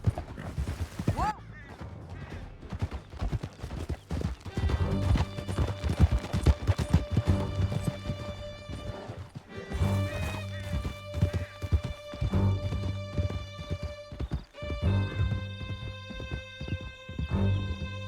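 Horses gallop in a Red Dead Redemption 2 canyon chase, hooves clip-clopping at a steady fast rhythm with a neigh, distant gunfire and music underneath, while voices shout over the ride.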